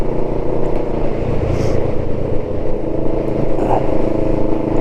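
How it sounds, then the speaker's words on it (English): Kawasaki ER5 motorcycle with an aftermarket exhaust, its engine running with a loud, steady low rumble and slight swells in revs, close and continuous with no break. "The noise, number one, the noise. Get an exhaust, stick it on, sounds lovely, especially on the overrun when it's hot."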